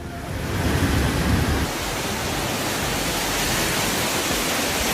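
Storm surf from Category 3 Cyclone Fina pounds the Australian shore, heard as a loud, dense, continuous roar of crashing waves mixed with gusting wind, a heavier surge early and then a steady wash, with no voices.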